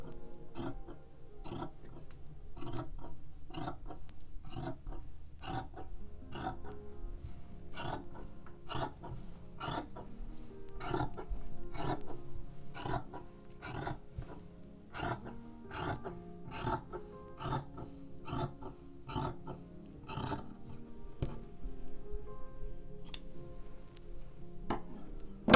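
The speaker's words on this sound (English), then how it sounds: "Now the top, just the top layer of this seam allowance, I'm going to trim down." Scissors trim the top layer of a shirt's seam allowance by hand, making a long run of crisp, evenly spaced snips, close and moderately quiet, with no talking.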